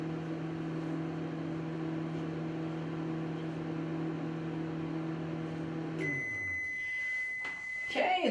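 Microwave oven humming steadily while firing silver PMC in a microwave kiln, a loud even drone that stops after about six seconds, followed by a long electronic beep and the clatter of a lid being handled.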